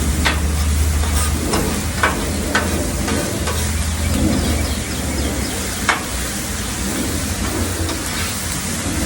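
Onions and peppers for chicken fajitas sizzle steadily on a Blackstone griddle, a dense crackling hiss that carries through the whole stretch, with a few sharp pops and scrape-like clicks cutting through now and then.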